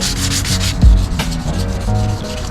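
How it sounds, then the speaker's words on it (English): Steady rubbing scrape of 320 grit sandpaper worked over a car tail light lens, close and continuous for the whole stretch, with one brief louder low thump partway through. "I just sand them down. It's a 320 grit"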